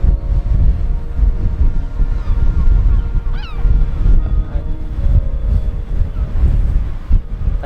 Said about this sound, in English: all these birds around me